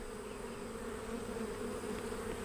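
Honey bees hum steadily at an open beehive, a dense, continuous buzz at close range with no voices.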